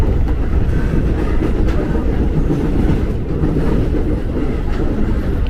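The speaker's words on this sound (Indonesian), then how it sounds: "Kita berangkat dari jalur 2 dengan wesel-weselnya di stasiun Pasar Minggu nih." A KRL commuter train leaves Pasar Minggu station, rolling over the rail switches with a loud, continuous low rumble and faint rhythmic clacking heard from inside the carriage. No one talks.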